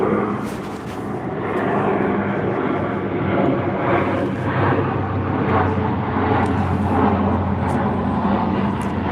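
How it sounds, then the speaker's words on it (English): A propeller airplane passes overhead outdoors on a boat deck in the evening, a steady broad engine drone that stays loud and continuous throughout with no talk over it. "We got a plane flying overhead, so it's going to be noisy for a few minutes."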